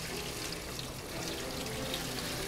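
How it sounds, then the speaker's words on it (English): Water runs steadily from a tap over a turkey sitting in a salt brine, a continuous close splashing rush with no pauses and no voices. "I'm going to cover the turkey with the water."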